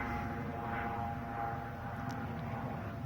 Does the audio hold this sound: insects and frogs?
no